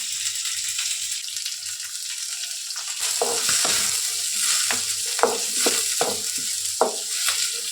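Curry leaves and mustard seeds sizzle and crackle in hot oil for a bitter gourd stir-fry, a steady close frying hiss with sharp popping bursts growing busier in the second half.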